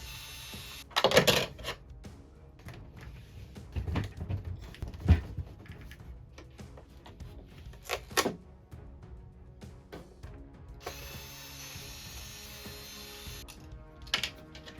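Screws and orange rubber feet being removed from the underside of a JBL PartyBox 110 speaker, giving sparse clicks, ratcheting screwdriver turns and small plastic knocks at close range, with quiet gaps between them.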